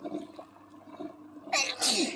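One loud, close sneeze bursts out near the end, in two sharp parts, after a stretch of low background murmur at a pool on a hot day in Kassel.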